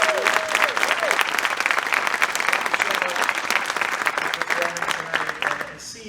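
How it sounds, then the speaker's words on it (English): Dense, sustained audience applause at a high school Wall of Fame induction and awards ceremony fills the full six seconds, steady and loud, easing slightly only at the very end. "can we have a round of applause?"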